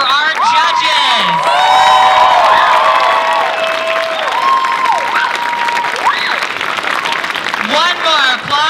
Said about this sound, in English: One more applause for our judges.